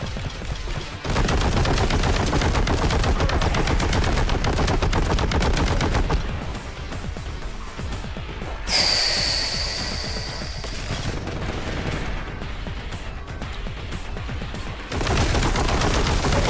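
Heavy bolter fire in Warhammer 40k Boltgun rattles loudly and continuously, a dense unbroken stream of shots that runs almost the whole clip, pausing once briefly before resuming at full force.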